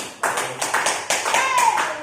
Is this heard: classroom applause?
yes